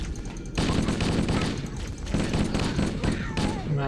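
Rapid automatic gunfire bursts from the video game Halo: Combat Evolved, loud and dense, broken by brief pauses, with a voice speaking over the shooting.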